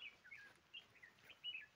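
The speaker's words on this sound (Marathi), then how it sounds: "इथं आपल्याला जास्तच पक्ष्यांचा आवाज येत आहे" Wild birds call in open countryside, several short chirps and tweets scattered across a quiet background, faint and somewhat distant.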